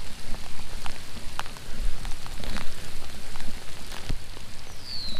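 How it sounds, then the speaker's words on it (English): Steady rain pours down outdoors at a fishing bank during a lightning storm, a dense broadband hiss with scattered droplet taps and a few sharper spatters, continuous and fairly close. "Yeah, it's raining."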